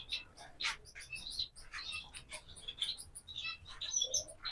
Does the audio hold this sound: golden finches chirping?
yes